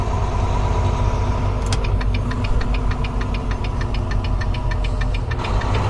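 A heavy diesel semi truck engine idles steadily close by in Colorado, USA, with a rapid rhythmic ticking knock running through its low rumble.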